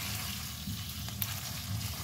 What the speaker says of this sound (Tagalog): Lagyan natin ng konting tubig mga kapising.